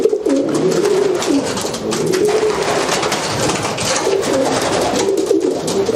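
Racing pigeons in a loft coo in a dense, continuous chorus of overlapping throaty rolling calls, close and loud, with wingbeats and shuffling mixed in throughout.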